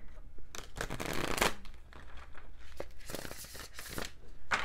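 A mass market edition tarot deck is shuffled by hand, papery riffling and cards slapping together in repeated close bursts, crisp and near, with no talk.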